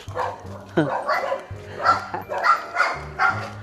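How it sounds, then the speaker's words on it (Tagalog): A dog barks and yips noisily in short, repeated bursts close by, mixed in with people talking over it throughout. "Ang ingay ng aso mo, tay."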